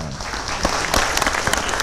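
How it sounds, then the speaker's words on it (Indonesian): An audience at a community empowerment forum in Salatiga bursts into steady, dense applause, many hands clapping at once with a few sharper claps standing out, filling the room throughout. "kita beri tepuk tangan dulu"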